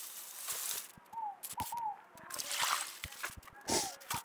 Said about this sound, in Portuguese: Isso aqui tem muita água, gente. Eu vou derramar isso aqui, ó.